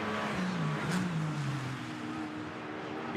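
Porsche Cayman race cars braking hard into the right-hander at Westfield, Brands Hatch, during a sprint challenge race, engine tones dropping in pitch as they slow, a steady mechanical roar at moderate distance.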